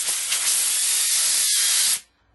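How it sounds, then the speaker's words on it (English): A loud, steady hiss of compressed air blasts through the carburetor holes of a Tecumseh 5.5 hp snowblower for about two seconds, then cuts off abruptly, leaving near silence. "we're going to just blow air right through those holes"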